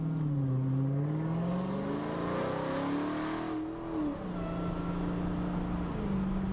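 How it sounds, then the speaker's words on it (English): A loud Dodge Charger Hellcat V8 exhaust roars close by, revving up and easing off in long sweeps, deep rumbling tone with a brief dip midway, no talking. "That is the best sounding exhaust I've ever heard."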